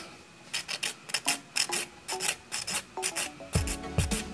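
Nail file rasping across a natural fingernail to shape it square, a series of short quick strokes in bursts, close and fairly quiet with no talking.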